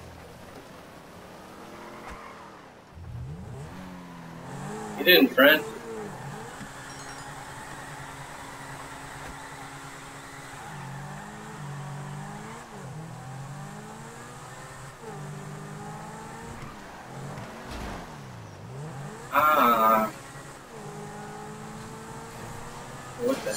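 A video-game car engine drones and shifts pitch while driving, with rising and falling revs, two brief bursts of sharp tire squeal, and a short spoken remark near the start.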